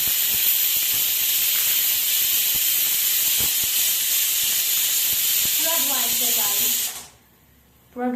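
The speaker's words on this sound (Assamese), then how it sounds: "এতিয়া চিটি মাৰিব হ'ল," A pressure cooker whistle releases a loud, continuous hiss of steam close by for about seven seconds, then cuts off abruptly into near silence before a short burst resumes.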